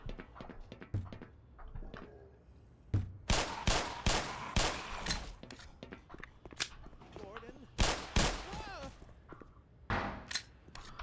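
A weapon's fast fire mode in Black Mesa lets off quick bursts of sharp shots in uneven clusters, with talking heard between and around them.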